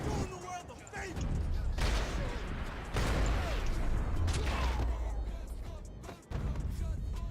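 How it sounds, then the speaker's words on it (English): Gunfire rattles through a firefight in the video game Max Payne 3, bursts of shots and heavy impacts layered over a dense, noisy background of action. "Gunfire over Hoboken."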